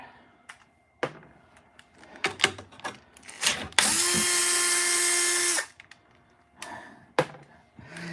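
A Bosch power drill runs in a steady, loud whine for about two seconds while working on a vintage washing machine transmission, framed by clanks and metal knocks from handling parts before and after.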